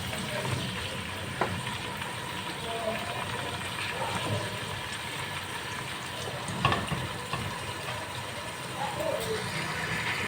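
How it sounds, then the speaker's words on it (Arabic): Meat for Saudi mugalgal sizzling and frying in a pan, a soft steady crackle with occasional clicks and scrapes as pieces are turned, while a person talks. "نبتدي نقلب اللحمه بتاعتنا، نقلبها بقى على الناحيه اللي ما اتحمرتش"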